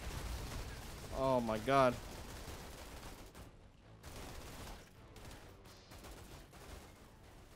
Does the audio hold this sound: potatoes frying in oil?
no